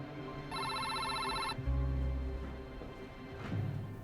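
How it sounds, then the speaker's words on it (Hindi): A telephone rings once with a bright electronic trill lasting about a second, followed by low rumbling background noise. "डॉक्टर सदरा का फोन है।"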